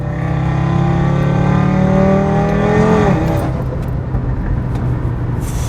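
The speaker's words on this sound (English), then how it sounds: "I don't know if you guys can hear that slight blip in the exhaust." A tuned Audi RS3 making over 420 kW drones loudly and close with a rising engine and exhaust note, then drops off sharply with a blip as the revs fall back to a rumbling idle.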